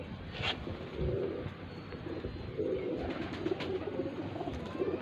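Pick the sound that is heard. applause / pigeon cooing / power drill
pigeon cooing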